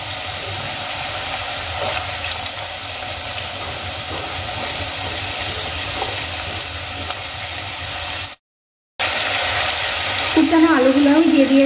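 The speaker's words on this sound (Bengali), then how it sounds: "এবার তেলের মধ্যে কুচিয়ে নেওয়া আলুগুলো আমি ছেড়ে দেব।" Chopped potatoes go into well-heated oil in a home kitchen while cooking egg curry, giving a steady, loud hiss and sizzle that runs almost throughout, with a short gap near the end and a voice speaking over the frying.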